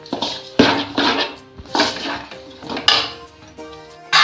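Fried flattened rice (avalakki) being stirred in a pan, with repeated clanks and scrapes of a spoon against metal roughly every second, close and fairly loud.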